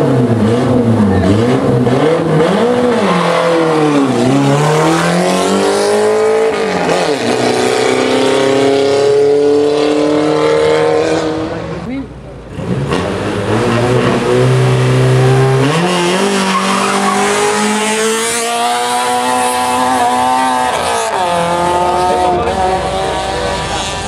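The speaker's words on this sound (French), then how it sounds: "la Renault 21 Turbo de 1987" A 1987 Renault 21 Turbo races in a historic hill climb at Salins-les-Bains, its engine loud and close, revving hard through repeated gear changes and rising, falling pitch with tire squeal, briefly easing midway.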